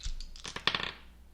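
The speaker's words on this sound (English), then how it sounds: "let's see what the astrological dice have to add to this for you" Astrological dice clatter briefly on a hard surface, a quick close run of small clicks and rattles settling within about a second.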